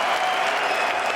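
A large arena crowd applauds steadily at the London 2018 FACEIT Major esports final after Astralis are announced champions, dense continuous clapping filling the whole moment.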